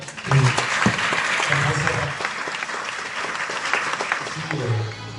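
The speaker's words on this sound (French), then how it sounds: "on peut encore les applaudir" Audience applauding at an evening awards ceremony for a 2018 label presentation, a dense steady clatter of many hands lasting the whole stretch, loud and close, with voices murmuring underneath.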